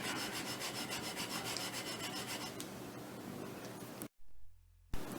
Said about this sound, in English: I've finished sanding it